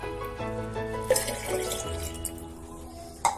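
Water poured from a glass into a bottle while making homemade apple vinegar, a steady close trickling stream with a couple of brief splashes and clinks, no voices.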